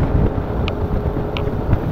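Strong wind roars into a camera microphone at Mariveles, Bataan, making a constant loud, close rumbling buffet throughout with faint brief whistles on top.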